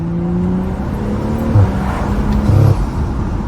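A BMW F30 335i exhaust burbles and rumbles while driving, a steady close engine drone with a couple of brief louder pops near the middle and end.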